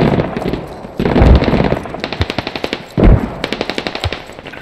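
An anti-aircraft gun fires in the military shooter game Squad: loud, close heavy booms open two salvos, each followed by a rapid, evenly spaced burst of automatic shots.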